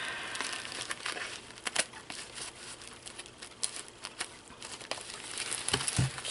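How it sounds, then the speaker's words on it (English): Scissors cutting through a parcel's packaging, crisp crinkling and snipping of plastic and paper close by, in irregular bursts over several seconds. "it looks like I have to have my scissors for this"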